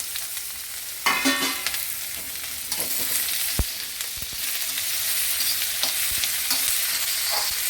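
Carrot and tomato frying in a pan for a Telangana-style poha dish, with a constant close sizzle broken by scraping stirs and a few sharp clinks of a spoon against the pan.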